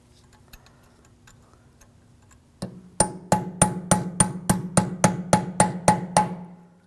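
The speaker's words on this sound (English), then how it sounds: "Just choose a chisel and just try to bend it back a little bit." Hammer striking a chisel to bend back the peened rear axle nut on a 2007-2013 BMW 328i, about a dozen loud, evenly spaced metallic blows ringing close by.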